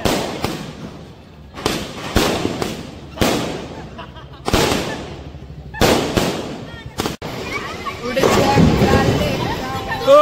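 Diwali firecrackers bursting at night in a string of loud, sharp blasts, several close together with crackling tails, ending in a longer rolling barrage of pops.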